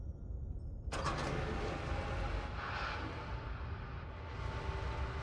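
Doors open in a video game with a sudden loud mechanical rush that sweeps in and holds as a broad, roaring hiss, easing slightly toward the end over a low background rumble.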